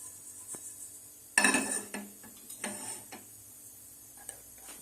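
Mustard seeds pop and crackle in a spoonful of hot oil in a pan on the stove for a Thrissur-style koorka curry, giving a burst of sharp ticking pops followed by scattered smaller crackles.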